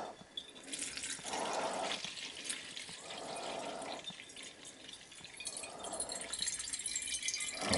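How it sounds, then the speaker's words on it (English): An HCl and bleach gold recovery solution is poured off into a container in a few separate splashing pours, close by, with liquid trickling and light rattles between them and no talk. "So again, I'll pour off the second solution."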